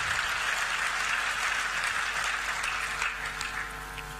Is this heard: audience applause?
yes